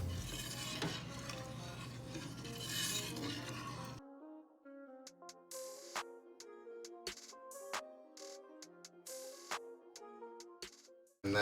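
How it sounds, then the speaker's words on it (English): Milk is stirred in a pot while making farmhouse cheddar cheese: a few seconds of dense swishing and scraping, then sparse, sharp clinks and taps against the pot with quiet gaps between them. "we're gonna go ahead and stir that in for about a minute"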